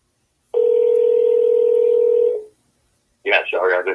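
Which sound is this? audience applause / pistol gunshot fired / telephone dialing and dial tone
telephone dialing and dial tone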